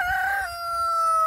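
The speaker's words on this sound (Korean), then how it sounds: "꼬끼오를 그냥 막 부르고 난리야" A rooster with white neck feathers lets out a single loud, close crow, a sustained piercing call that holds steady before dropping slightly in pitch, with no voices over it.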